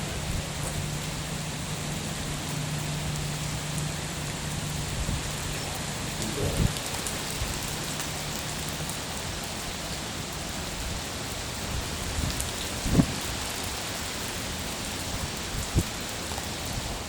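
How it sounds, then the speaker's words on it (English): Heavy rain falls steadily as a dense, constant hiss across the whole stretch, with a couple of louder knocks or drips near the middle, and nobody speaks. "Yeah, that's some pretty heavy rain right now."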